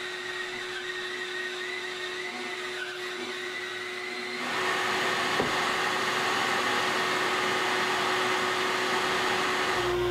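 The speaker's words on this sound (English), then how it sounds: "now I can rip the piece down into two roughly 1-inch strips" A power saw rips a board of wood into strips roughly one inch wide, with a steady whining drone that grows louder as the cut begins midway and then stays constant.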